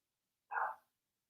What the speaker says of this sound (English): my dogs are barking, keeping all the coyotes away like good puppers that they are.